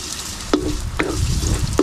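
Ginger sautés in a pan with a steady soft sizzle, broken by three quick scraping strokes of a spatula at regular intervals.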